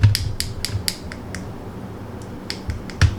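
A series of sharp, crisp taps on a hardened acrylic nail, about a dozen in uneven clusters, close and clear with a faint background hiss.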